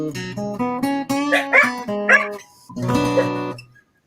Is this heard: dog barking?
yes